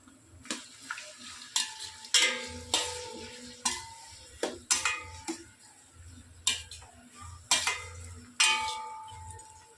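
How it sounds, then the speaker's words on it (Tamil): Sliced big onions, about 250 grams, frying and being stirred in a pan for Dindigul chicken biryani with seeraga samba rice: a steady sizzle under repeated scraping, clattering spoon strokes against the metal, loud and close, with no talk. "வெங்காயம் நல்லா வதங்கி வரட்டும்."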